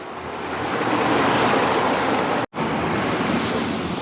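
Water pours steadily out of an outlet in a street wall during flooding, a loud, close, continuous rushing gush with a brief dropout midway.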